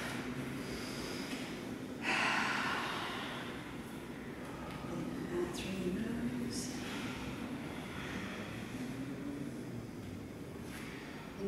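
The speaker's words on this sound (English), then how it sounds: "Breathing in and out through the nose." Steady breathing in and out through the nose during a Kundalini yoga kriya, continuous rhythmic nasal airflow, close and moderately loud, with sharper snort-like exhales throughout.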